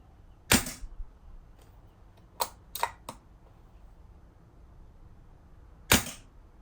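Pellets from a Daystate MK4 airgun strike a nearby target in sharp, isolated snaps: one at the start, a quick cluster of three in the middle and a final crack near the end, over a quiet background.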